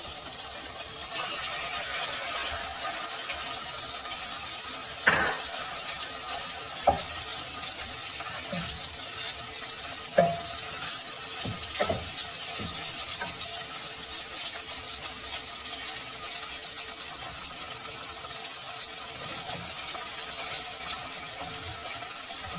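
Shrimp cooking in a pot of gumbo, a steady watery hiss and bubbling with a few sharp clicks and scrapes from stirring, with no one speaking.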